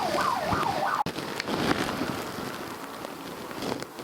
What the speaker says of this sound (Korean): 자주 이렇게 앰뷸런스 소리가 납니다